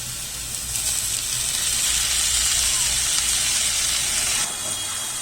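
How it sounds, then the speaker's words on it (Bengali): Ginger, garlic and onion paste added to half-fried onions for a country chicken curry, hissing and sizzling loudly in a hot pan as a steady close frying sound that eases slightly near the end. "এবার আদা রসুন পেঁয়াজ যেটা পেস্ট করে রেখেছিলাম সেটা দিয়ে দেব"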